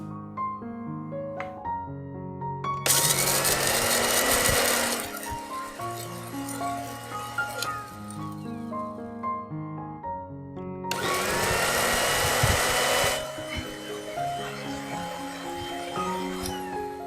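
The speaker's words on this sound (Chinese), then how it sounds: "待辣椒干冷却后，倒入搅拌器里" A kitchen blender grinds cooled dried chili peppers in two loud, roughly two-second whirring bursts, separated by quieter stretches with background music.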